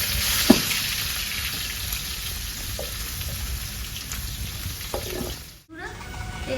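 Chopped onions frying in mustard oil give off a steady, close sizzle, with a few soft clicks of utensils against the pan and a brief drop in the hiss near the end.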